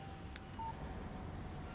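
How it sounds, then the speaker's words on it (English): A phone in Alan Wake gives a brief electronic beep as a text message arrives, one short clear tone over faint background hiss with no speech. "Text message from Barry."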